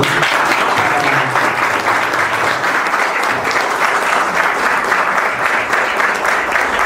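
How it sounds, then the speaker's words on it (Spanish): Audience at a political talk gives a strong, sustained round of applause to welcome a speaker, dense continuous clapping filling the room at steady loudness throughout. "Lo que sí les pido, una cálida bienvenida con un fuerte aplauso."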